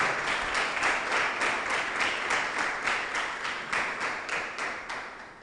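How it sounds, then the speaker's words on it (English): A round of applause for a panel at a forum on AI and human intelligence, steady rhythmic clapping from a crowd filling the whole stretch at even loudness, easing only slightly toward the end. "shall we give them a round of applause?"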